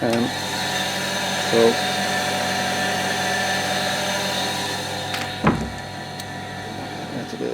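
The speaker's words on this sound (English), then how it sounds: "that's the noise of the pump" A household water pump runs with a steady mechanical whir and hum, close by, while a person speaks briefly over the constant drone.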